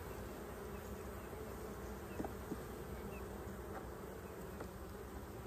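Honey bees buzz around an open hive box in a steady, dense drone, faint and constant, with a few brief knocks in the background.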